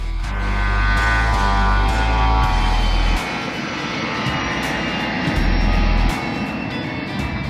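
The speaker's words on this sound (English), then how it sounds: "it's how the plane gathers water to extinguish fires" A firefighting plane scoops water to fight fires, its engines roaring loud and steady before the pitch drops and a broad rushing wash of water spray takes over, then the engine drone surges back.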